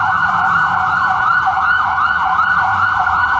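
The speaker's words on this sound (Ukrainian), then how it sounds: "Пожежна машина вже готова виїжджати." A cartoon fire engine siren in a children's animation wails loudly in a steady rising-and-falling sweep over a low engine rumble, sounding close and alone with no talk.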